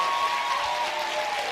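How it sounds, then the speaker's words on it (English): A lecture-hall audience clapping as loud as they can, a dense continuous wash of applause with no gaps, moderately distant. "I want everyone to start clapping as loud as they can"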